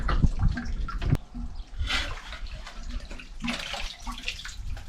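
Water splashes and pours into a container for a small goldfish on a farm, irregular bursts of gurgling, close by, with a faint knock early on.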